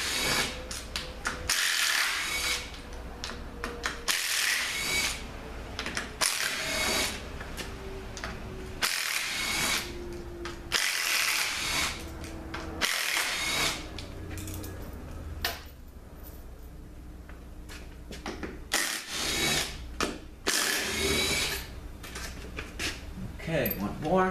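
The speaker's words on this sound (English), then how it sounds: "now we're going to take the bolts out for the channel plate" A ratchet backs out the channel plate bolts on a 4T45E automatic transmission with a blown differential, giving repeated bursts of close, loud clicking separated by short pauses, while someone talks at times.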